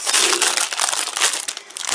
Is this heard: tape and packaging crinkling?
yes